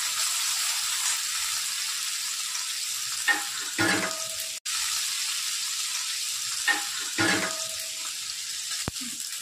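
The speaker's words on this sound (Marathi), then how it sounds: "कांदा चांगला परतला, त्याच्यामध्ये टमाटर घालू" Onion and tomato sautéing in a pan give a steady frying sizzle, with a few brief stirring scrapes and clinks rising over the constant hiss.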